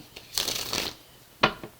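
A quick riffle of a Rider-Waite tarot deck being shuffled, a soft papery flutter followed by a short second snap, close and quiet.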